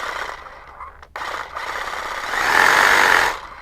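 A Festool Carvex jigsaw with a D-handle grip cuts through a workpiece, a steady buzzing motor whine that briefly cuts out near one second, then swells louder and harsher for about a second before easing off, close and with no talk.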